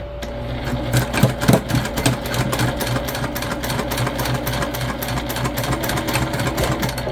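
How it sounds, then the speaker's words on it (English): A sewing machine stitching darts on a bag runs steadily and close up for several seconds, a dense rapid chatter of needle strokes with a few heavier bumps early on. "We'll sew our darts."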